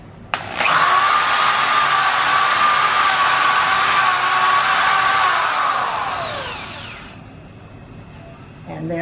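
A drill bores a 1 inch hole for a millinery spinner, whining loudly and steadily for about six seconds before winding down, then a quieter pause.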